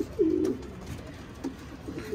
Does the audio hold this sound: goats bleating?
no